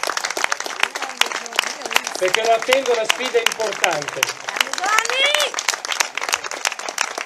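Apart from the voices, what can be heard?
warm applause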